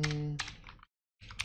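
Typing code on a computer keyboard: a quick run of clicky keystrokes up close, a brief pause, then a few more taps, with no talking.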